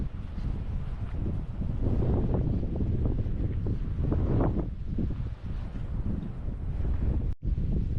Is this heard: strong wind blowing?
yes